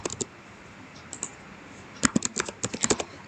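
A name is typed on a computer keyboard, with a few isolated clicks followed by a quicker burst of light, close keystrokes in a quiet room.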